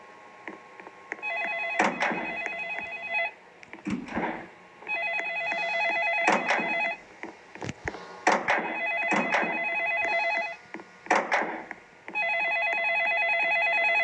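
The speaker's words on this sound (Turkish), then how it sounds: "Abi telefon nerede?" A telephone rings in the Roblox gas station game, repeated electronic ring bursts in a regular on-off pattern, with brief thumps between rings.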